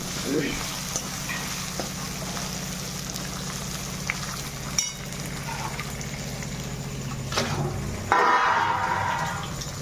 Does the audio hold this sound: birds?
no